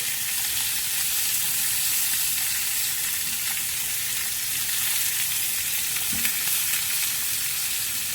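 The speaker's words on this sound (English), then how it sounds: "And a beautiful sizzle and gorgeous smell." Rosemary and garlic marinated lamb chops sizzle steadily in a hot pan, a close, continuous crackling hiss with no talking.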